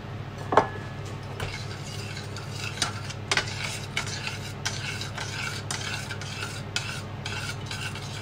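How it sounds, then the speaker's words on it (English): A spoon stirs cake mixture in a bowl at close range, with steady scraping and occasional sharp clinks against the side over a low background hum. "let's give the mixture another stir"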